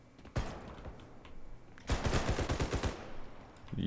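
Video game AK-47 gunfire: one sharp shot, then a dense burst of rapid automatic fire lasting about a second, fairly loud over a low background.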